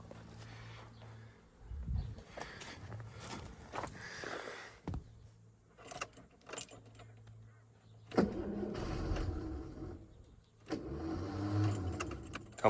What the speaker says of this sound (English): Come on, starter motor, don't do this to me.